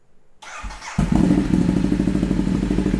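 A starter whirs briefly, then a Ducati Diavel motorcycle engine catches and settles into a loud, rapid, throbbing idle close by.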